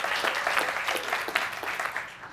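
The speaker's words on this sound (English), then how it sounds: "Let's give him a big round of applause, please" An audience at a civic panel event applauds a panelist, a dense, continuous burst of many hands clapping that fades slightly toward the end, with no voices over it.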